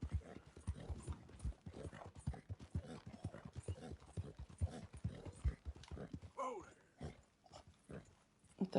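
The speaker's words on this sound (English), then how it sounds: "Horsey doing some grunting" A horse in Red Dead Redemption II grunts and snorts close by as hooves clop in a steady walking rhythm, then the sound breaks off into a few softer snorts near the end.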